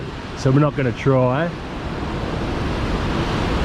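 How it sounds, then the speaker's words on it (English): Violent ocean surf pounding the coast at Cilacap, Indonesia, a steady broadband wash of crashing waves with wind noise, briefly under a voice at the start and then continuing alone. "The ocean is violent."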